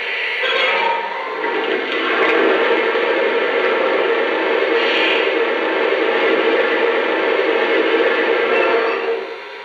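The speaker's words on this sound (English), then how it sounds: "Here's the sound of water being added to the tender." A Lionel O gauge toy train's sound effect of water filling the tender: a steady, continuous rushing hiss like water pouring in, holding level for several seconds before tapering off.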